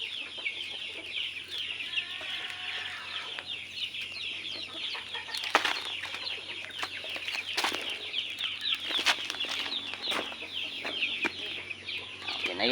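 Chicks and chickens clucking and peeping, a dense, steady chorus of close bird calls with occasional flapping wings throughout.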